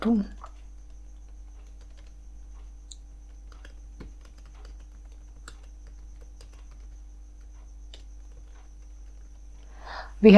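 Scattered, light keystrokes on a computer keyboard while a call log is typed into a CRM system, sparse taps in a quiet room, with brief bursts of voice at the start and end.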